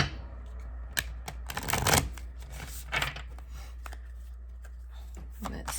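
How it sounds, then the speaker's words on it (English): A Moonology oracle card deck is shuffled by hand, making a steady run of soft riffling and slapping card sounds with a few louder bursts over a constant low hum. "So let's try shuffling that one more time."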